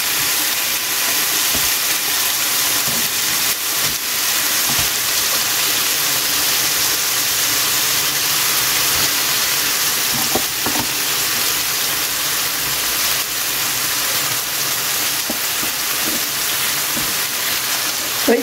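Steady, loud sizzling hiss of food frying in a pan right after it has been flipped, constant and close with faint clinks now and then.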